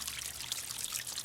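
Water trickling and splashing steadily from a bird bath converted into a lit garden water feature, a soft continuous patter with no voices.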